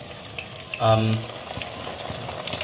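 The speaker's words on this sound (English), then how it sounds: "as you can hear, the jeera, which is the cumin seeds which my mom added, have started to sputter" Cumin seeds sputtering in a hot oil and butter mixture, a steady close crackle and sizzle with a brief louder burst, while a voice talks faintly under it.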